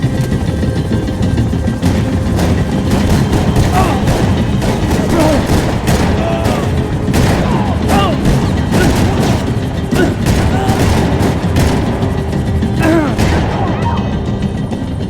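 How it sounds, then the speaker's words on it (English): Rapid bursts of gunfire crackle through a Max Payne 3 firefight, repeated shots and booms layered over game voices shouting in the background. "Max, shoot that bastard!"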